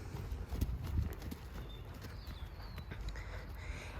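A chestnut appaloosa horse's hooves clip-clop while hacking out alone, a steady walking rhythm of dull, close thuds under outdoor wind noise.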